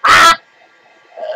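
A single loud, harsh honk from a bird cuts in sharply, followed by quiet room tone and a faint trailing sound.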